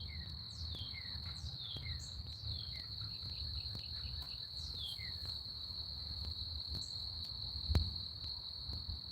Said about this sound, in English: And the crickets?